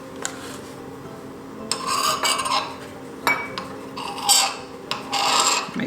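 A utensil scrapes across the top of butter in a porcelain French-style butter crock, producing short, close, raspy scraping strokes in irregular bursts with quiet pauses between.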